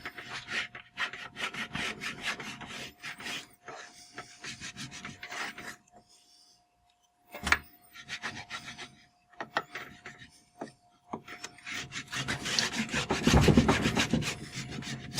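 Wax being scraped along the edges of skis, a steady series of rasping, rubbing strokes with brief pauses, close by and fairly loud, growing heavier toward the end.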